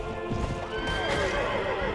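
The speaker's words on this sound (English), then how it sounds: "My horse is about to go down as well." A horse in the Mount & Blade Warband game gives a loud, drawn-out whinny over hoof clip-clop and battle noise, with a voice faintly underneath.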